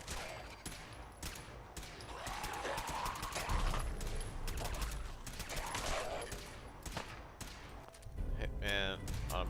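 An automatic laser rifle firing in Fallout 4's Far Harbor, with rapid bursts of shots in quick succession at moderate loudness, interspersed with talking.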